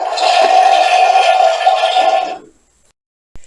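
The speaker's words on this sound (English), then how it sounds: "The toilet, when flushed, makes a realistic flushing sound." A Barbie Dream House toy toilet plays a flushing sound, a steady rushing whoosh lasting about two seconds before cutting off, followed by a brief click.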